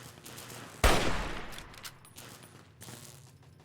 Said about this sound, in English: I'm hearing the sound of gunfire.